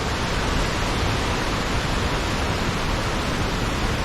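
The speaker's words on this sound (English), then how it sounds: "Cool little cascade here." Snow Creek cascades over mossy rocks in Yosemite Valley as a small waterfall. It makes a dense, constant roar that is close and loud, with no voices or breaks.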